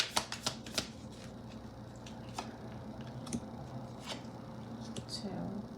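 A deck of tarot cards is shuffled close by in quick riffling bursts and soft slides, then quieter handling continues, with a person speaking in between.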